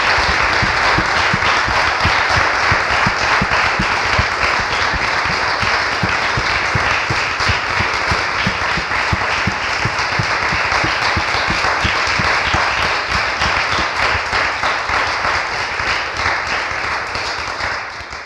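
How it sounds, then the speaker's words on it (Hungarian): An audience applauds two speakers, András and Eszter, at a talk on kindness, with dense, loud, sustained clapping that fills the whole stretch and fades slightly at the end. "hogyha úgy gondoljátok, hogy András és Eszter megérdemel egy tapsot"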